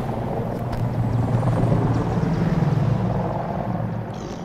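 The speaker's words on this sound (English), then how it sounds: "Ooh, plane." An airplane in the Battlefield 2042 video game flies past as a steady, loud engine drone that swells and then eases slightly, heard alone.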